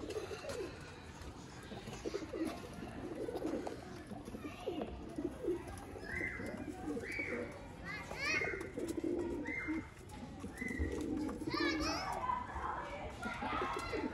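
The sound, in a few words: pigeons cooing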